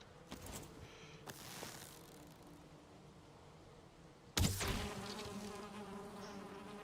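A bee buzzes faintly in the survival game Conan Exiles, a steady insect drone over ambient wilderness sound, broken by a few soft clicks and a sudden loud swoosh partway through.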